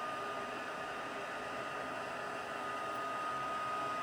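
A heat tool blows steadily to melt embossing powder from the back of a card background, a loud constant whooshing hum like a hair dryer that runs unbroken throughout.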